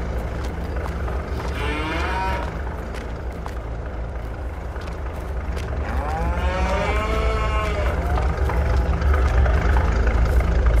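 Cattle mooing inside a Farming Simulator 22 farm, two long drawn-out lowing calls a few seconds apart over a steady low engine-like hum that grows slightly louder.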